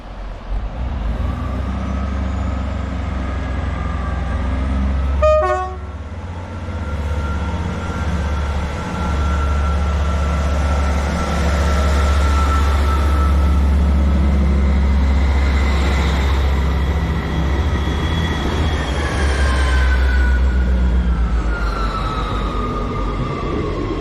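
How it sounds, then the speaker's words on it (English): An East Midlands Railway train at Liverpool South Parkway gives a short horn blast, then pulls away with a steady loud diesel engine drone that swells as it departs. "I will keep the clip rolling as this East Midlands is ready to depart"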